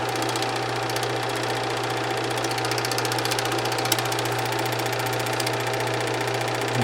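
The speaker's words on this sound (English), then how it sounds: "So I'm going to go ahead and thread it forward." Bell and Howell 456a film projector being threaded with film, a steady close mechanical whir and hum with a low motor drone running evenly throughout, no talking.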